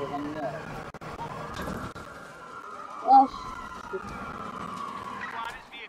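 A police siren in the video game Watch Dogs 2 wails at moderate distance, its rising and falling tone running beneath a person talking and other game noise.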